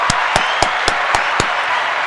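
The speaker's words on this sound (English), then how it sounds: "Let's give a round of applause to Dalton Schultz." Clapping for a football player during a Dallas Cowboys bye-week awards show, six evenly spaced sharp claps over a steady noisy background, fairly loud and close.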